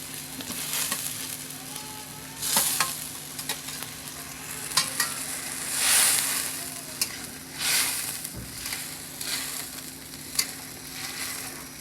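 Hilsa fish curry broth with fried eggplant and potatoes added, bubbling and sizzling at a low, steady level with scattered clinks and stirring knocks.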